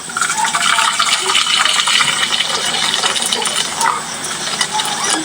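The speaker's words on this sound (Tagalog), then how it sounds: "Lagyan natin ng hot water." Hot water poured into a cooking pot holding taro and smoked pork, a loud continuous gushing splash that runs steadily for several seconds.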